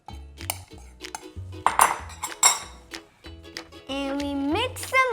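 Cookie batter is mixed in a bowl, with utensils clinking and tapping against the bowl in a quick irregular rhythm. Music plays underneath and a voice speaks over the mixing.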